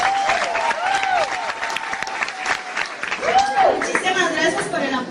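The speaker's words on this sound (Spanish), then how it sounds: "Un fuerte aplauso." A church audience applauds briefly as a dress designer is introduced, clapping mixed with cheering and chatter, while a voice sings or calls out over the noise.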